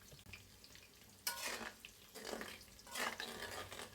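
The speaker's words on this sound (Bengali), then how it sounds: "আমি পেঁয়াজটা 2 মিনিট ভাজা করে নিব।" Onions frying in a pan for beef bhuna hiss in soft bursts, with two louder sizzling surges as they are stirred between quieter stretches of low crackle.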